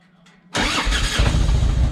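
Quiet hum, then a Harley-Davidson Evolution motorcycle engine abruptly cranks and catches, settling into a loud, rough idle close by.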